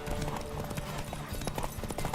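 Horse hooves clip-clop in a quick, steady rhythm in The Witcher 3, with game ambience around them and no voices.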